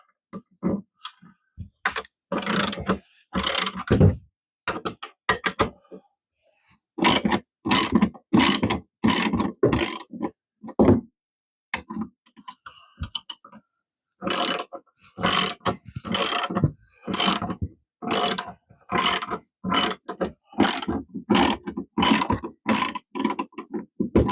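A socket wrench fitted with an adapter ratchets as it is turned to loosen a fastener, giving rapid close clicking bursts in repeated strokes separated by brief pauses.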